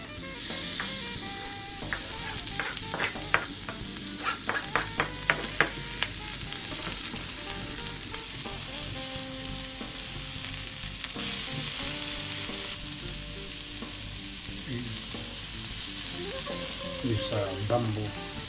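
Chopped tomatoes sizzling and frying in a pan, stirred with a large bamboo spoon; steady crackling sizzle with a run of sharp scraping clicks from the spoon early on, then a continuous close frying hiss.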